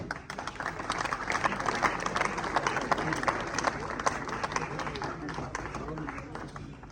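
Clapping from a school audience at an award ceremony for a top-ranked cadet student, steady sharp claps lasting several seconds and fading slightly at the end, with voices over them.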